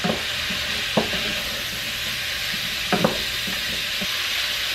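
Steady, loud sizzling of chopped garlic frying in a hot pan, with a few soft clinks of a utensil stirring now and then.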